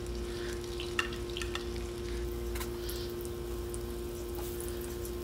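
Onions sizzling in hot oil in a kadai while shrimp thokku is cooked, a steady soft frying hiss with a few faint clinks and crackles, no voice.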